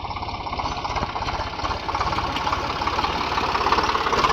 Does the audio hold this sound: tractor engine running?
yes